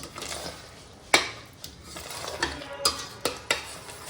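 Tomato gravy is stirred in a pan over a soft simmering hiss, with a spoon knocking the pan's rim and sides in irregular, distinct taps, close and without voices.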